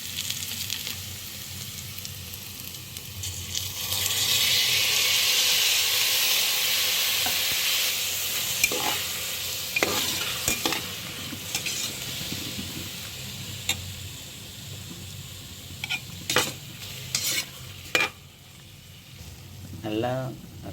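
Onions and tomatoes sautéing in a pan, a steady broad sizzle building after a few seconds with scattered clicks and scrapes of stirring, close and moderately loud, no talk.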